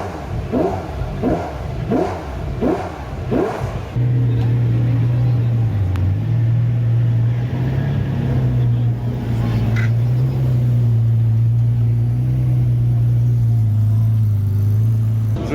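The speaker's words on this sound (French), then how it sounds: "on est de retour du côté de JMB Classique qui ont démarré les McLaren F1" McLaren F1 race cars at the Circuit Paul Ricard, fired up by JMB Classique: a series of sharp, loud throttle blips, then a sustained heavy engine roar that wavers slightly, close by, with faint background voices.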